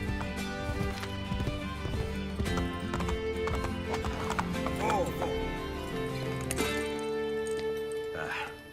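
Horse hooves clatter in a fast galloping clip-clop amid game music and effects from Assassin's Creed: Brotherhood, with a whinny and a voice speaking over it.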